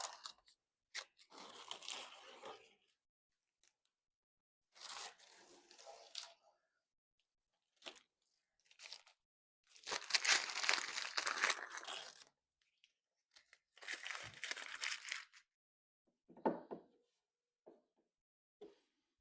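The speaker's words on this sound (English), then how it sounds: "I think it's safe to go ahead and take the tape off now" Masking tape peels off painted foam scenery for a model railway layout in several separate bursts of crackly tearing and crinkling, close and quiet, with pauses between pulls.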